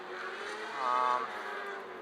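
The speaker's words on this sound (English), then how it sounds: "This is an 800cc bike." A Ducati Scrambler Desert Sled 800cc motorcycle engine drones steadily while riding, a smooth continuous hum that swells briefly in the middle, heard close up.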